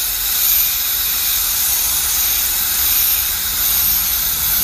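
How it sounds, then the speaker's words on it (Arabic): A handheld steam device blasting hot steam onto an old sticker to loosen it, a loud, continuous close-up hiss that holds steady for several seconds without talk. "فانا راح استخدم الجهاز ان شاء الله اللي هو البخار بهذه الطريقة"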